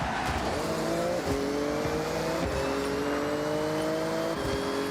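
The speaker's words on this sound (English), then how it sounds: "I could hear the car behind me." Racing car engines in Forza Horizon whine and rise through gear shifts, with several sharp pitch jumps over a steady loud roar, suggesting a fast chase.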